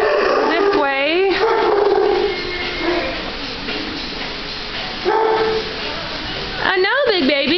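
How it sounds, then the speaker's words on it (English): Several dogs bark and whine at an animal shelter, loud repeated yelps and howls echoing around the kennels with a person talking between them. "come down, lots of dogs, lots and lots"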